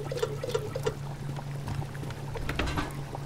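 Water poured in the survival video game Subsistence, a steady close splashing stream with small gurgles and trickles, running continuously on its own.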